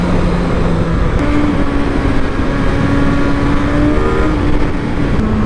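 A 2024 Suzuki GSX-S1000 naked 1000cc motorcycle is ridden, its loud, close engine droning steadily while the pitch shifts slightly as it pulls along, with no speech.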